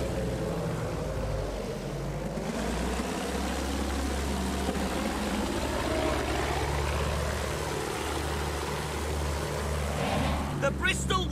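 A Bristol propeller plane in the Battlefield 1 video game drones steadily in flight, its engine a constant low hum with shifting pitch, and voices talk over parts of it.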